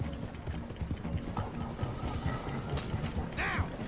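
Horse hooves clip-clop steadily in Red Dead Redemption 2, a quick rhythmic patter running under busy mechanical game sounds, with a couple of brief high-pitched effects near the end.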